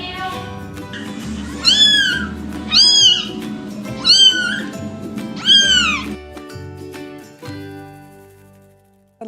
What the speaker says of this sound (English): A little tiny kitten.